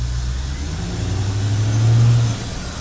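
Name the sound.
Corvette C4 TPI L98 engine revving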